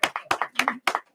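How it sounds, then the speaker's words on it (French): Church congregation clapping in unison, a short run of rhythmic, evenly spaced hand claps at close range, with no voices over them. "On l'acclame, frères et sœurs."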